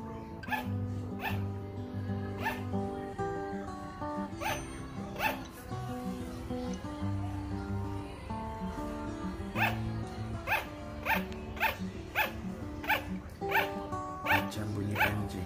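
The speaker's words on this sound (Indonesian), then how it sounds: "This is my sugar glider punya bunyi." A sugar glider gives rapid, repeated yapping barks like a small Chihuahua, close and quiet, over a steady background of music.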